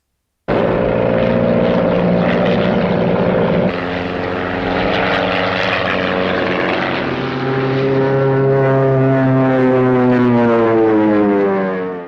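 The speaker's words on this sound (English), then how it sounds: "flying around the desert in a crop dusting plane with James Brolin holding onto the wing" A crop-dusting propeller plane flies low over the desert in the 1977 film Capricorn One, its engine drone loud, steady and continuous with a shifting pitch as it passes close by.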